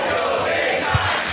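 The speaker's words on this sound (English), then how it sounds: "The crowd getting behind." A wrestling match crowd cheers and roars in a steady, dense wash of noise, with one brief louder swell near the end.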